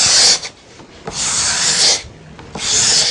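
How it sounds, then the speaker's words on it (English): A toothed tool dragged across a wooden veneer core to scratch it makes three close, harsh rasping strokes separated by short pauses, with no talking. "Now you just drag the teeth across the core, a little bit like fingernails on the blackboard."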